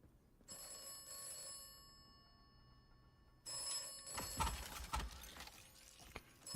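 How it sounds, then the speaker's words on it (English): Telephone in the video game Atomfall ringing with a bright electronic bell tone, two bursts separated by a pause, followed by clattering game sounds, no talk. "And there's a phone."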